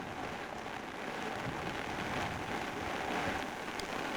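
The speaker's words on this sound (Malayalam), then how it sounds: "മഴയല്ലേ" Rain falls steadily in a hilly valley area of Kerala, a continuous broadband hiss of drops on surfaces that stays even and moderately faint, with no voices.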